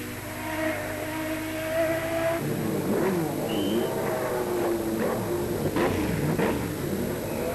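Peugeot Talbot race car at the 1991 Le Mans 24 Hours, a steady loud engine roar with rising and falling sweeps as cars pass, dense and continuous throughout.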